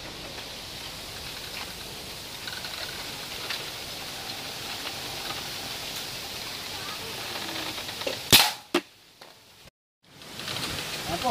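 Homemade PVC pipe toy marble gun shot: after a long stretch of steady outdoor hiss, one sharp loud crack and a couple of smaller knocks, then a short near-silent gap before the background noise returns.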